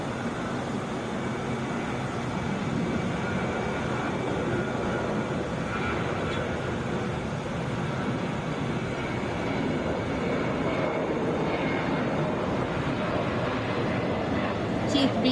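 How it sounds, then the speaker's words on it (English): A Delta Boeing 717 landing at Atlanta's Hartsfield-Jackson airport, a sustained broad jet roar with a steady whine, heard from afar under a continuous blanket of noise. "This is 2991 Delta, coming in from Little Rock, Boeing 717"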